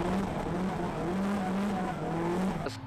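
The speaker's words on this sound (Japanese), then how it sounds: "瀬崎誠、はい、S13 シルビアの走りです" A Nissan Silvia S13 drifts at a D1GP round on the Bihoku Highland Circuit, its engine roaring under a sustained, wavering tire squeal from a short distance, with no talk.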